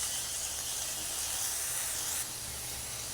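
Moringa leaves hit a pan of browned onions with a steady, loud frying sizzle, a continuous hiss throughout that eases slightly near the end.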